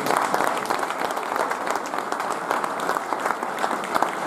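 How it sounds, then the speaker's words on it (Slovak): An indoor audience at a football awards ceremony applauds, a steady dense patter of many hands clapping at full strength throughout without a break. "tento potlesk je pre vás"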